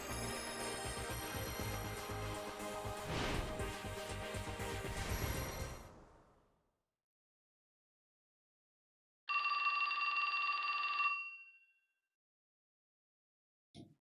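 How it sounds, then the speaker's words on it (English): A telephone rings in the video game 428 Shibuya Scramble, a loud electronic trill that follows a stretch of music. The music cuts to silence before the ring, and a tiny click comes at the very end. "Then the phone rings."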